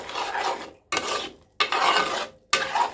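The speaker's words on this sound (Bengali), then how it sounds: "এবার মিশিয়ে দিই।" Ghee and roasted ground coriander-cumin being stirred into a kidney bean and pea curry in a pot, heard as loud scraping, rasping strokes in bursts separated by brief pauses, close up with no talking.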